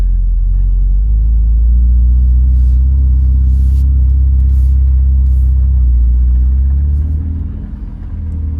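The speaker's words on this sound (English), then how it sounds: "I'm going to turn the car around." A Ferrari 488 Pista Spider's engine rumbles deep and loud at low speed while the car is turned around. The throaty idle swells slightly and then eases off near the end, with no talking.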